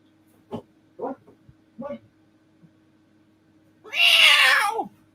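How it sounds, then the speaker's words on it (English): A house cat meows loudly and close, one long drawn-out cry near the end after a few short soft sounds, with no other noise around. "I got a cat."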